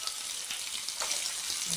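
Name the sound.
cumin seeds sizzling in hot oil for fish curry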